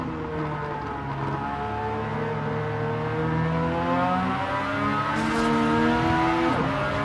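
A Mazda RX-7 race car in a classic DTM racing video game screams at high revs, its rotary engine note holding steady and close with rising and falling pitch as it drives a circuit, no talk over it.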